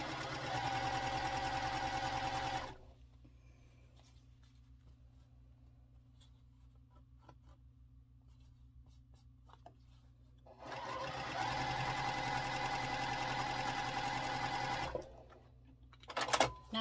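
A sewing machine stitches batik quilt block rows together in two steady, close bursts of rapid whirring, separated by a quiet pause.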